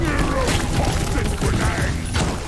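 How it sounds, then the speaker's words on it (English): Mechanical clicks, clunks and ratcheting of a weapon being reloaded in the sci-fi mining shooter Deep Rock Galactic, busy and loud amid other game sounds and a brief voice. "Reloading."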